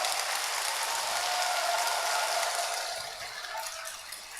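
Sustained audience applause after a Buddhist Dharma talk by a monk at a temple's Baekjung prayer service, a dense even wash of clapping that holds steady and then gradually thins.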